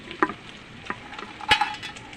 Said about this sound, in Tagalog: nagpiprito pa tayo ng galunggong para may kapartner naman ang ating miswa